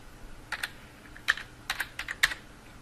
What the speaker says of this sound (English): you can simply click in the search bar type in Paint